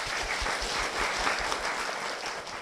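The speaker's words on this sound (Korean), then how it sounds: "최진희 집사님 박수로 모시겠습니다." An audience in a church applauds steadily to welcome a deacon, a dense, even clapping of many hands throughout, moderately loud with no talk over it.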